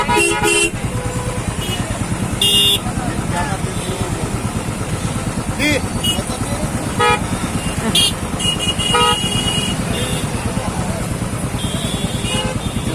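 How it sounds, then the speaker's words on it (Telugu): Dense road traffic at the Jamulamma temple fair in Gadwal district: car and motorcycle engines drone continuously while several horns honk and toot in short bursts, with background voices mixed in throughout. "రోడ్డు ఫుల్గా ట్రాఫిక్ జామ్"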